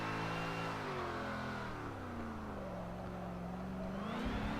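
A drift car's engine revs hard as the throttle is floored through a corner for a power slide, the pitch climbing and falling in one sustained, loud, close roar with no talking.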